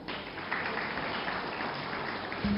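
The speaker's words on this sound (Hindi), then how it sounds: "हमारे खास मेहमान का जोरदार तालियों के साथ स्वागत कीजिए बीजेपी के प्रदेश अध्यक्ष वीडी शर्मा का।" An audience claps steadily and densely to welcome BJP state president VD Sharma on stage at the Rising Madhya Pradesh event, a continuous wash of applause from a large crowd with no talking.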